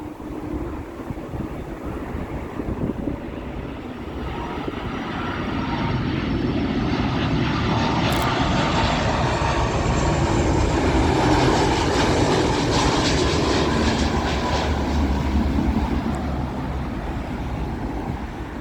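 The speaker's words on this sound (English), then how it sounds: "China Eastern will beat the runway switch. This is their A330 service from Shanghai" A China Eastern Airbus A330 arriving from Shanghai roars in on approach to Heathrow runway 27L, its jet engine noise swelling from a distant rumble to a loud, sustained broadband roar as it passes overhead, then easing slightly.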